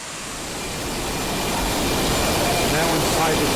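Rushing water inside a waterworks gatehouse after heavy rain, a loud, dense, unbroken roar that fills the space and swells slightly louder over a few seconds.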